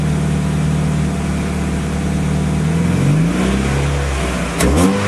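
A car engine fitted with a nitrous system drones steadily, then its pitch shifts and climbs as the revs change, ending with a brief sharp click near the end, loud and close.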